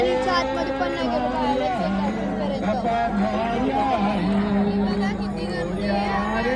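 Steady, close crowd hubbub at a Ganpati immersion gathering, many overlapping voices forming a continuous babble while a nearby voice talks over it.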